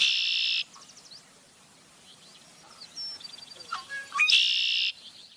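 Red-winged blackbird song, a buzzy trilling call at the start followed by softer chirped notes and another harsh trill near the end, clear against a quiet background.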